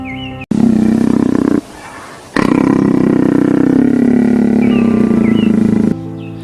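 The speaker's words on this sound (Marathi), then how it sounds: "तो प्राणी म्हणजे बिबड्या किंवा बिबट्या." A leopard gives loud, close, rasping roars in long sustained bursts with short breaks between them, with no voices over it.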